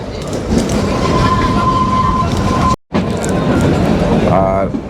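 The Kalka to Shimla toy train rumbles along steadily with a loud, continuous rolling roar, a thin wheel squeal rising above it for a moment, while faint voices murmur in the background.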